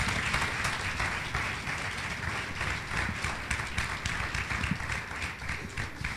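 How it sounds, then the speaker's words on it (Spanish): A church congregation claps steadily through a sermon break, the applause even and moderately loud from start to finish. "Denle un aplauso al Señor."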